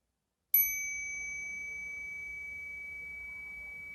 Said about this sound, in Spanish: voy a hacer sonar una campana para que la escuches atentamente